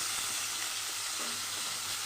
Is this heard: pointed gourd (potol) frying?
yes